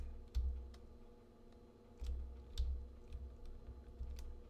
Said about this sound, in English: I'm literally pressing every button on my keyboard